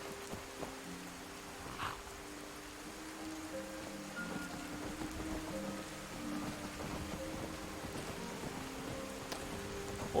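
Rain falls steadily in the Skyrim VR game world, a soft constant patter and hiss at low level, with faint tonal game sounds and a few thin clicks drifting over it.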